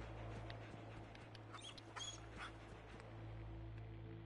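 Dogmeat, the dog companion in the video game Fallout 4, gives a faint, brief whimper amid a steady low game hum.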